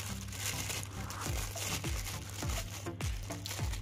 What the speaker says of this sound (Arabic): وأنت تفتح الكيس